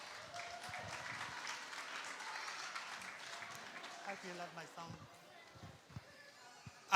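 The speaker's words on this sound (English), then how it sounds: "warm round of applause for Ben Makisi." At a birthday party, a crowd gives a performer a sustained round of clapping with a few cheers, fairly faint and distant, tapering off near the end.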